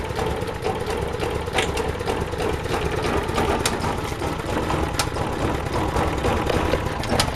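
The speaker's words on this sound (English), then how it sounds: "And it's running. I haven't yet tried to adjust the idle." A small engine idles low and unevenly, a continuous near chugging with irregular knocks and ticks, steady loudness and no talking.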